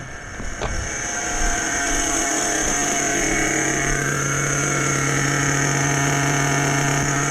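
A truck engine idles steadily and close by, a constant rumble with a low hum that holds level throughout after a brief rise near the start, with no voices.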